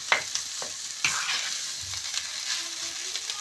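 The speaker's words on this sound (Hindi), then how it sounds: "आलू शामिल करके हमने इसको अच्छी तरह से मिक्स कर देना है" A spatula works through spiced crushed potato filling in a hot pan, scraping and tapping in irregular strokes over a soft, continuous sizzle, close and moderately quiet with no talking.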